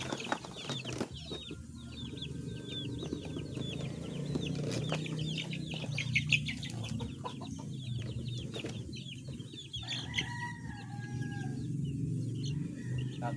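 Farmyard chickens with young chicks, mostly hens, heard as a busy mix of clucking and high peeping chirps with an occasional rooster call, steady throughout against background noise.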